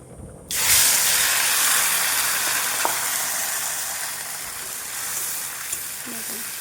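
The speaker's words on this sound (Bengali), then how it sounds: "এখানে এবার ভালো করে মশলাগুলোকে কষিয়ে নেব" Spice paste for an egg curry, mixed masala with chillies, sizzles loudly and steadily as it fries in a pan, a continuous crackling hiss that starts abruptly and carries on alone with a few faint clinks.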